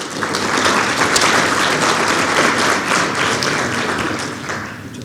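Loud, dense applause welcomes a speaker at a talk on Brazilian social security, a continuous wash of clapping sustained across the whole stretch.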